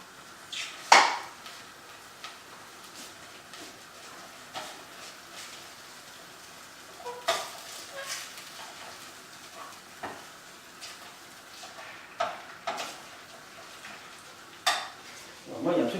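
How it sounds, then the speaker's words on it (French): Eggs get worked into choux pastry dough with irregular scraping, tapping and clinking of a utensil against a pot, soft and scattered over a quiet background. "on mélange nos œufs"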